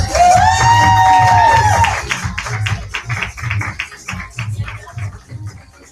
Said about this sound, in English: everybody give your round of applause